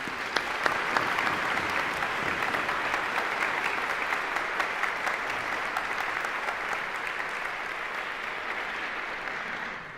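Sustained applause from a commencement audience honoring the faculty of a physician assistant program, a dense, steady clapping wash that holds for the full stretch and thins slightly toward the end, with no voices over it.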